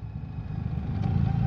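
Steady mid-pitched engine drone of a 2025 BMW R 1300 GS Adventure motorcycle with automatic shift assist, running at low revs as the gearbox downshifts on its own and the engine note rises slightly toward the end.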